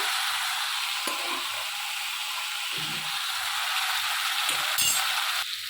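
Boiled potatoes hiss and sizzle steadily in spiced masala in a pan for Bengali vegetarian aloo dum, with a few soft knocks and scrapes from stirring and no talking.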